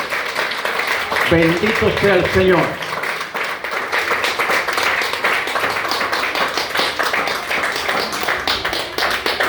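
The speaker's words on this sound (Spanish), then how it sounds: "dale un aplauso al Señor en esta mañana" A church congregation applauds in a steady, dense patter of clapping that fills the whole stretch, with a voice speaking over it early on.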